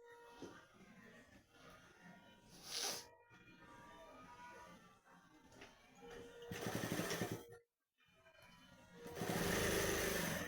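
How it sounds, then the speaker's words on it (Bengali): A tailor's sewing machine runs in several bursts while stitching a sleeve seam onto a ready-made garment, steady close whirring that rises in loudness toward the end, with a short pause between runs and no talk. "আবার হাফ ইঞ্চি দূর থেকে আবার একটা সেলাই দেবো"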